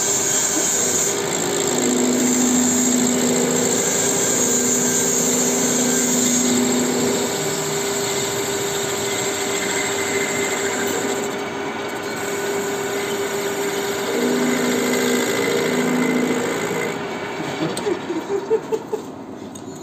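A lathe turning a cylinder head for a Honda F1ZR motorcycle, shaving off a 3 mm layer, gives a loud continuous whirring drone with a whining tone that rises and falls, ending in a few clicks.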